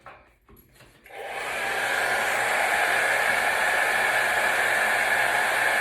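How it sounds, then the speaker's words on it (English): A hair dryer is switched on after a second of quiet handling noise, then blows with a steady, loud, even whooshing roar that holds without change to the end. "you don't have to listen to the hairdryer"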